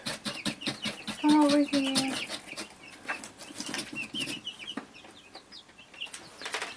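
Affectionate pet birds cluck and flap their wings up close, with bursts of clucking and wingbeats early on, while people talk over them.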